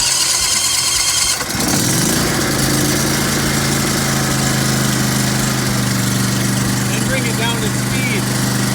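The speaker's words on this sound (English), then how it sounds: "put it in choke, make sure the handles are out on both sides, and get the key, give it a crank" A zero turn lawn mower engine is cranked with the key on choke, catches after a brief starter whir and settles into a loud, steady close idle.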